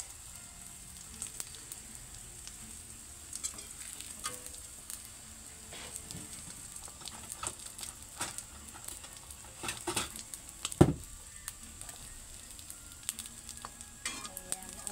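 Egg frying sunny side up in a hot pan, a steady crackling sizzle with scattered pops and spits throughout, close and fairly quiet, with no voices.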